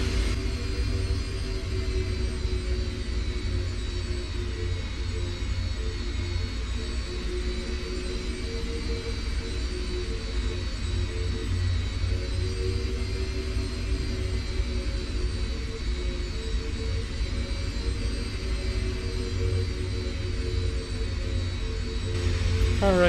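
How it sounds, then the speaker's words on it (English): Aircraft engine in X-Plane 10 taxiing toward the end of a runway, a steady, loud jet-like whine and rumble held without change for over twenty seconds, with no talk over it. "So we'll taxi down here to the end of the runway"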